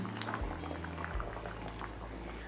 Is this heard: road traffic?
no